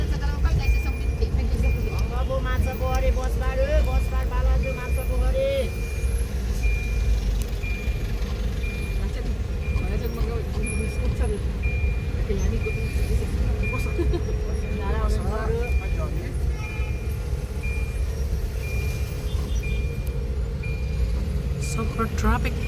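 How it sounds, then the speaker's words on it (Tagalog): Jammed road traffic with cars, trucks and buses rumbling continuously, with a steady engine drone, intermittent beeps and occasional brake hiss, and people talking throughout. "Super traffic."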